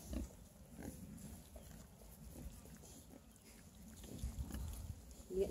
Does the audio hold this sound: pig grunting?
yes